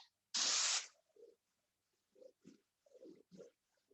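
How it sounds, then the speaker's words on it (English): Colour coating is sprayed onto a leather car seat: a single short, loud hissing burst from the spray gun, then near silence broken by faint, scattered low voice sounds. "With a single spray coating going on there, the covering power."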